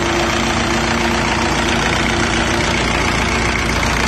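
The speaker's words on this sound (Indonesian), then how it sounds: "mesinnya ada hidup" Rebuilt motorcycle engine running steadily nearby, a dense, even idle with a faint knocking texture and no talk over it.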